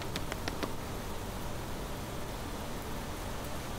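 Rain falls in the survival game Planet Crafter, a steady, even hiss of downpour with a few light patters early on, faint and continuous throughout.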